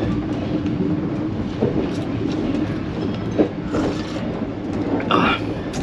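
Passenger train in Vietnam running on rails on the route from Nha Trang to Hanoi, a steady rumbling clatter with faint clicks heard from inside the carriage, under quiet background voices.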